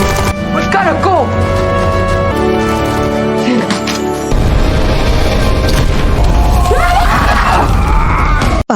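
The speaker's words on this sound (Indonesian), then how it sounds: "Eugene dan yang lain bersiap meledakkan terowongan dengan masing-masing memegang granat" A grenade explosion collapses a tunnel in a film scene: a heavy, loud rumbling blast erupts and keeps roaring, with music and shouting voices around it.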